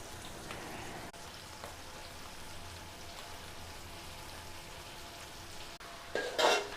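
Sausage sizzles in a hot pan with a steady, fine crackle, like rain on a surface, holding an even, moderate level, with a louder burst of spatter near the end.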